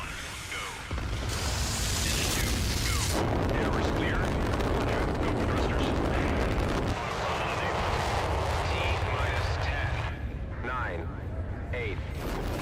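A rocket launch in the video game Mindseye roars as a loud, sustained blast with heavy rumble that surges partway through, a voice talking over it.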